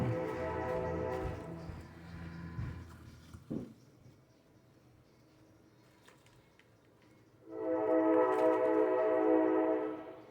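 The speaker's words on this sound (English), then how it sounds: "Sorry about the train." A train passes nearby with a rumbling rolling sound and a long droning horn blast, first at the start and again louder toward the end, with a quieter gap between and no talk.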